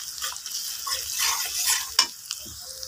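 Chopped onion and garlic sizzle in hot oil in a pan, a steady close hiss of frying with scraping stir strokes and a sharp utensil clink near the end.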